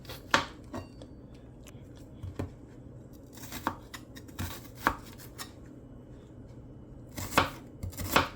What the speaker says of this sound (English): You're gonna chop the pepper.